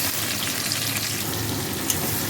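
Chopped onions hit hot oil already seasoned with whole bay leaves and whole garam masala for chicken biryani, giving a steady, close, dense sizzle and crackle that runs without pause and without speech.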